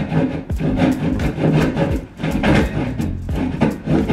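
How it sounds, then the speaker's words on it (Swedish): A hand saw cuts through a piece of a wooden cabinet, with steady back-and-forth rasping strokes about twice a second, loud and close, and no talk. "Och så ska jag bara såga av den biten"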